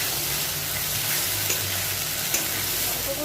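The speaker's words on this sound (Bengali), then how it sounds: "বেটে রাখা মশলাটা এর মধ্যে দিয়ে দেবো। দিয়ে ভালো করে কিন্তু চিংড়ি মাছের সাথে মশলাটাকে কষাবো।" Ground spice paste fries with prawns for a Bengali prawn malai curry, a dense, continuous sizzle with occasional scrapes of stirring, close and fairly loud throughout.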